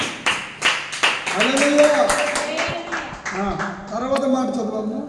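Rhythmic hand clapping in a church worship service, sharp regular claps mixed with a voice singing or calling out over them.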